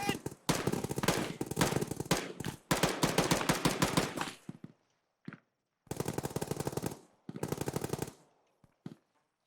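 Bursts of automatic rifle fire from friendly soldiers in the ArmA 3 military game rattle in long rapid strings, broken by brief pauses and a few isolated single shots, moderately distant and fairly loud.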